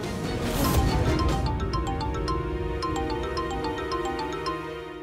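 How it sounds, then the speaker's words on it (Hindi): Mobile phone ringtone playing a bright repeating melody of tones, loud and close in a home, ringing continuously with a faint background hum and no talk. "शिखर का फोन है।"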